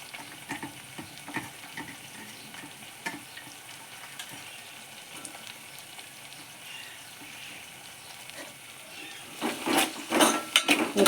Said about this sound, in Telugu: ఇప్పుడు ఆనియన్స్ మంచిగా ఫ్రై అయ్యేదాకా మనం ఆయిల్లో